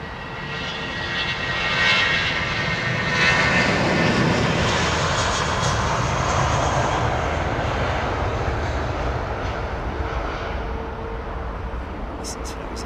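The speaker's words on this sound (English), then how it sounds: "Listen to those engines." An Airbus A350's jet engines at London Heathrow Airport produce a broad, steady roar that swells over the first few seconds and then slowly eases, with someone talking over the engine noise.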